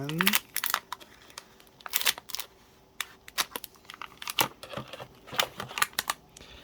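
Anti-static plastic bag holding an Orange Pi 5 Pro 16GB single-board computer being opened up close, with a long run of irregular crinkling and rustling crackles, loud and close by.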